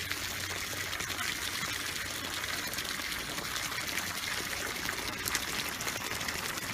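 Water trickles steadily down into a French drain, a soft, continuous dribbling wash heard alone and fairly faint.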